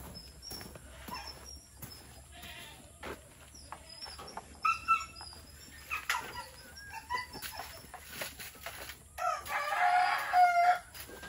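Chickens cluck and chatter nearby on a farm while a rooster crows, with scattered calls overlapping and one louder burst toward the end.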